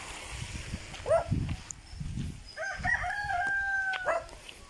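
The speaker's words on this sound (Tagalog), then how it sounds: "May mga manok din." A rooster crows twice at a moderate distance, with a dog and other farm noises faintly in the background outdoors.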